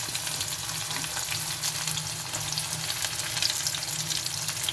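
Chopped onion dropped into hot oil for egg fried rice, a loud, dense, continuous sizzle and crackle that holds steady throughout, close up and without talk.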